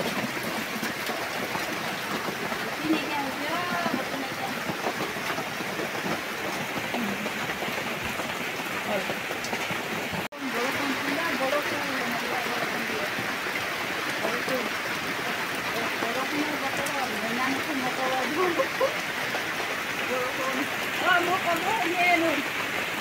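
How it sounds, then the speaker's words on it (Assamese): Heavy monsoon rain pouring all around a house, a dense steady hiss and patter of drops on surfaces that runs unbroken throughout, with people talking faintly underneath. "চবফালে বৰ পানী পৰিছে ঘৰটো"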